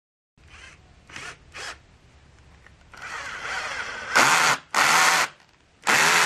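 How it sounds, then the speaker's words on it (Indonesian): A Yukido 13mm cordless lithium-ion drill in screw mode, torque 15 and speed 1, drives a 4 cm screw in short whirring bursts. Three brief pulses lead into a longer strained run, then several loud, close full-power bursts. "Terakhir kita cobakan untuk memasangkan baut cacing panjang 4 cm dengan pilihan mode screw, torsi 15 dengan speed 1."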